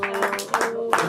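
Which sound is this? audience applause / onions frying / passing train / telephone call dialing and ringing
audience applause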